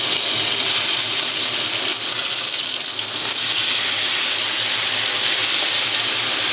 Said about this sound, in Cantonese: 我就可以落啲斑球落去